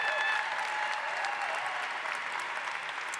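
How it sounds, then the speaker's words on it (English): A room of educators applauding at an award event, a dense steady wash of clapping that carries on evenly throughout, moderately loud and slightly distant. "I want you to give her a huge round of applause"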